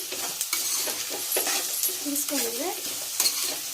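Ivy gourd pieces with turmeric and salt stirred in a hot pan, with scraping spatula strokes and clinks over a soft sizzle, close by; a brief tonal squeak rises and falls midway.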